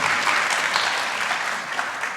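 An audience at a spring college honors night gives a round of applause, dense steady clapping from many people filling the room, moderately loud and even throughout.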